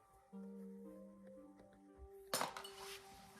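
Broken glass handled in an abandoned building, a few sharp clinks and a louder crunching rattle near the end, over faint background hum and tones.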